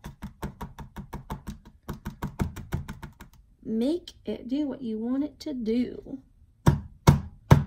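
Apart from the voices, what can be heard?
tapping the pour painting to move the paint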